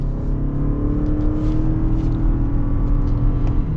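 A 2023 Lexus RX 350h hybrid SUV accelerates from a stop, giving a steady, fairly loud engine and motor whir with a low drone that holds throughout, with no talking.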